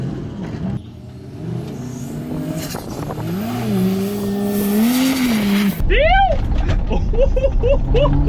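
A car launches hard at a private-property drag racing event, its engine climbing in pitch through rising revs, then a sharp cut leads into a different vehicle's rhythmic shifts and revs, loud and close, with voices talking over parts.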